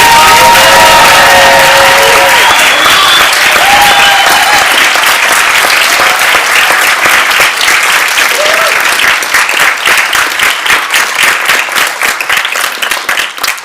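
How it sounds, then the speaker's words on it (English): Loud, sustained applause and cheering from a commencement crowd honoring Georgia Tech College of Sciences master's graduates, with shrill whistles and whoops rising over dense clapping early on before it thins toward the end. "I think the graduates deserve one more huge round of applause"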